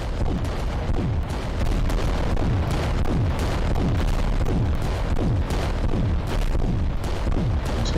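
Repeated artillery shots aimed at a Reaver titan in the tabletop-style game Adeptus Titanicus: Dominus, a steady run of heavy booming blasts with descending whistles, loud and continuous with no speech.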